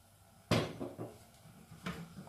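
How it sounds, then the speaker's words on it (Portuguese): Egg yolks for homemade chocolate mousse are stirred in a pot: a sharp utensil knock against the pot, then softer scraping and a second clack, close and quiet. "Aqui já temos que estar sempre a mexer"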